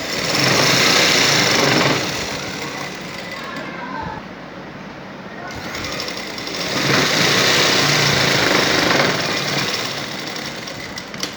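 A sewing machine stitches elastic onto a trouser waistband, giving a steady mechanical whir in long runs with a quieter dip midway, fairly close and loud throughout.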